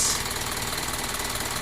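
Isuzu NMR Euro 4 six-wheel truck with a 4778 cc, 150 PS diesel idling smoothly, a steady low mechanical hum heard close by with no break.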